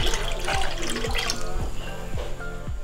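Leftover mozzarella whey culture liquid pours into a pot of milk, a continuous close splashing and gurgling stream with bubbly trickling throughout, and no talking.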